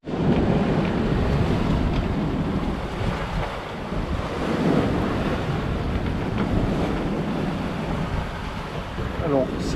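Strong wind buffets the microphone while a rough sea surges and crashes around a sailboat beating upwind between Cape Verde and Senegal, a loud, continuous roar with swelling waves and no pauses.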